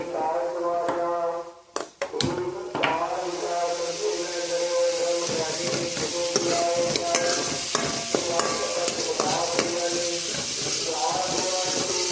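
Chopped onions fry in hot oil in a pan for a Punjabi bean and badi dish, with a steady sizzle and repeated scraping and clanking of a stirring spoon against the pan.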